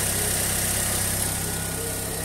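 A Fiat Uno Vivace engine idles with a steady low hum and faint vibration, heard close up and evenly throughout with no speech; the car has a reported humming and vibration fault.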